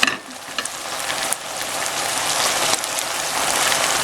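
String beans simmering in soy sauce and vinegar for adobong sitaw, giving a steady crackling sizzle like rain on a surface, close and moderately loud, with a few light clinks and no voices.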